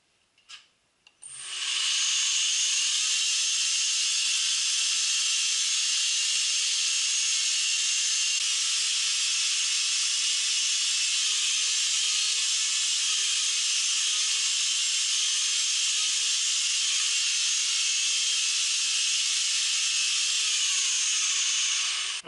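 A 2x72 knife belt grinder runs and plunge-grinds a blade using a multi guide, a loud steady abrasive whine that starts abruptly after a few faint knocks and holds for about twenty seconds.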